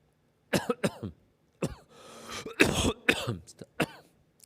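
Several harsh coughs in quick bursts, close and fairly loud, with a throat-clearing rasp between them.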